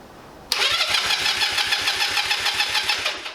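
A 125cc bobber motorcycle engine with an empty fuel tank cranks steadily on its starter without catching, a loud, close, rhythmic churning that starts abruptly and runs without a pause.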